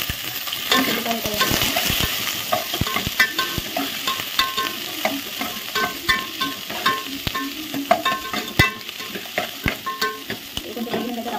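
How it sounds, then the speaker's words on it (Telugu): Tomato and onion fry in a pan with a steady close sizzle while a spoon stirs and scrapes in quick, repeated strokes, the rhythmic clatter running throughout with no talk. "ఇప్పుడైతే టమాటా ఉల్లిపాయ అయితే వేయించేస్తున్నా."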